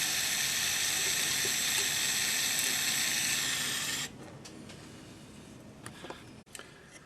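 Hot metal jewelry work with flux on it, fresh off a charcoal block after soldering, is quenched in water, giving a loud steady hiss and sizzle for about four seconds that then cuts off, leaving faint ticks and clicks.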